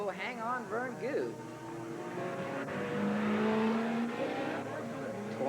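An '87 Camaro race car with a 355 Chevy at Willamette Speedway, engines revving and rising and falling in pitch as cars circle at a distance, with an announcer talking over the track noise.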